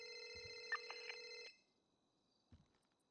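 A phone rings in Grand Theft Auto V roleplay, two bright electronic trill bursts sounding for about a second and a half, then cutting off into near silence with only a faint thump afterward.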